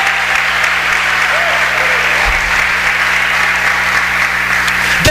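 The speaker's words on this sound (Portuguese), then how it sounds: "uma salva de palmas àquele que vive para sempre" Congregation clapping together during a church service, a continuous loud wash of applause with a low hum underneath, cutting off abruptly at the end.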